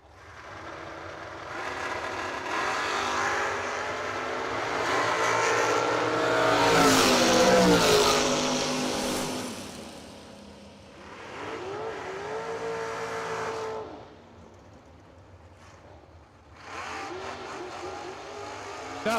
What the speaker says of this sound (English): Jeg Coughlin Jr. in the Dragster. 458 is the dial, chasing the J&K Racing Camaro of Steve Black.